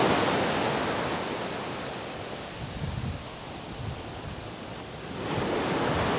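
Strong sea waves crash and wash up the beach at Teluk Senangin, a steady broadband roar that eases in the middle and swells again near the end, with no voices.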